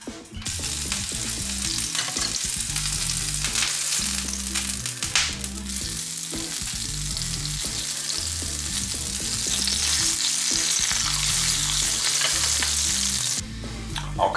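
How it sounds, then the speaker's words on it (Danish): A cucumber frying in a hot pan used for sausages hisses in a steady, loud sizzle, with occasional stirring scrapes and crackles, and no voices. "det bare er tid til at begynde at prøve at stege den første agurk"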